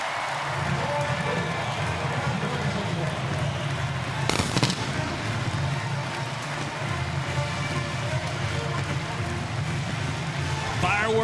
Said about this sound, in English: Fireworks at the Palace.